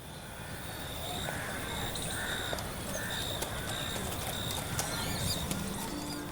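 A horse trots over hard ground, its hooves clip-clopping in a faint, regular rhythm that stays fairly distant in a quiet outdoor scene, with occasional bird calls and no talking.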